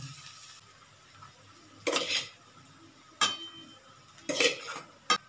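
Cooked rice is tipped into a pan and stirred with a metal spoon in a home kitchen, giving a few separate scraping and clinking bursts between quiet gaps, fairly close but soft overall.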